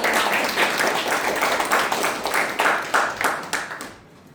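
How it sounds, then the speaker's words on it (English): A crowd applauding, dense and steady clapping that holds for several seconds before fading away near the end. "give it a big round of applause for our team"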